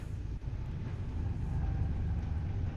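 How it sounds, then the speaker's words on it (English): Steady low rumble of a train passing nearby, a continuous heavy roar with no voices. "Don't mind the train."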